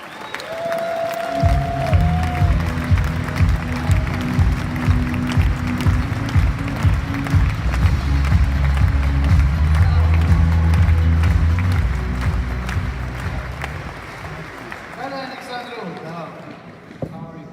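Conference audience in Amsterdam clapping and cheering to welcome a speaker onto the stage, a loud sustained wash of applause with music and voices underneath, swelling and then fading out near the end.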